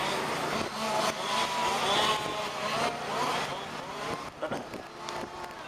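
A pack of 5th scale RC race cars at the DeSoto Grand Prix passes by in traffic, their engines a loud continuous buzzing whine that swells and fades, with a race commentator talking over it.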